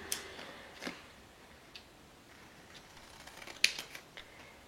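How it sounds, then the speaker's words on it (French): Scissors snip through paper to cut out a triangle shape for a gift place card, several faint, sparse cuts spread across a quiet background. "je coupe en triangle"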